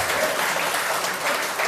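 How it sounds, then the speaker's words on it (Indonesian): An audience at a Christian theology debate applauds as a speaker's time runs out, a brief burst of dense, steady clapping heard close and loud. "Tepuk tangan, waktu habis."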